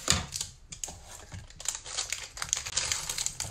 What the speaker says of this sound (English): cut this package.